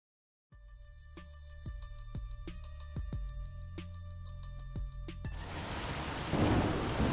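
Thunderstorm with rain in the video game Saints Row: The Third, where repeated sharp cracks of thunder sound over steady rainfall that swells into a loud downpour near the end, with no voices.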